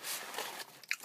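Crunchy bites and chewing of a crispy Subway sandwich, heard up close, with a quick burst of crunching followed by softer mouth sounds and a sharp crunch near the end.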